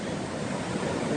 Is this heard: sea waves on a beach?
yes